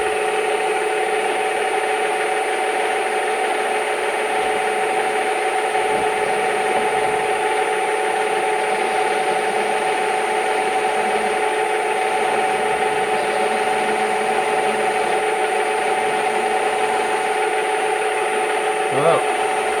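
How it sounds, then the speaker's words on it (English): A workpiece is center drilled on a machine, giving a continuous steady whine with sustained tonal hum and faint scraping texture, unbroken for the full stretch and fairly loud. "Now, I'm going to center drill this thing."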